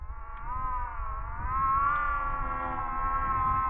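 A demon cat in the horror game Layers of Fear lets out a long, steady, wailing yowl from outside, loud and unbroken for several seconds with no talk over it.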